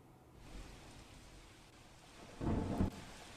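Steady heavy monsoon rain in Junagadh, Gujarat hisses throughout, with a louder rumbling burst near the end like distant thunder.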